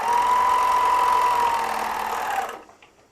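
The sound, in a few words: Bruxel Sienna 4-thread overlocker serger sewing thick seam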